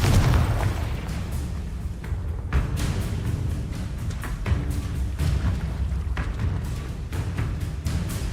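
Confringo spell explosions in Hogwarts Legacy, a dense run of booming blasts and bursts filling the whole stretch, heavy low rumble with repeated sharp impacts and no talk.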